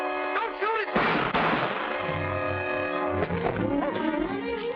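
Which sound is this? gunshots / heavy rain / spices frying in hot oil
gunshots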